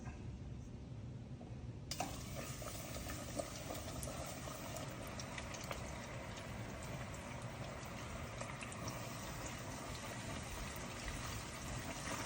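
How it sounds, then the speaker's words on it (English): Pork frying in oil heated to 320 degrees for Filipino crispy binagoongan, a steady dense bubbling and crackle that starts abruptly and carries on evenly, close and fairly loud, with no talking. "while we are frying our pork"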